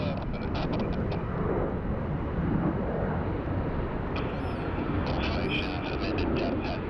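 A FedEx cargo plane landing at Sydney Airport, heard as a steady, broad jet roar that stays loud and continuous throughout, with wind-like rumble and no clear separate events.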